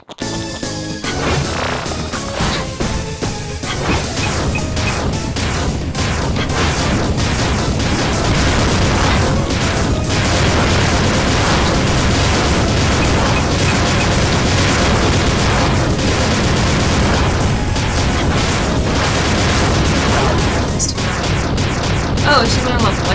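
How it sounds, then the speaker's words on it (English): Explosions from the Shantae Risky's Revenge video game, loud and dense, bursting repeatedly over energetic game music for the full stretch, with no voices. "Explosions!"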